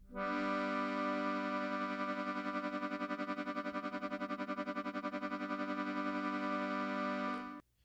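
A sustained reedy, organ-like harmonium chord throbs with a fast, even tremolo pulse for several seconds, then cuts off abruptly.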